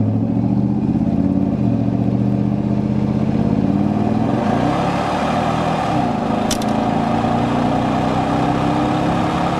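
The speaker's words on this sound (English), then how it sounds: "let's go ahead and get in the throttle" A 1997 GMC Sierra 1500 pickup with a Vortec 5.7 V8 and 75K miles accelerates steadily on a test drive, its engine droning loudly and evenly from inside the cab with a gradual pitch shift.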